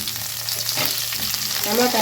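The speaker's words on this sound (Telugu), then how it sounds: "ఇప్పుడు పచ్చిమిరపకాయలు బాగా వేగాయి" Green chillies fry in hot oil for peanut chutney, giving a bright steady sizzle and crackle with a few soft stirring sounds close by, no voices.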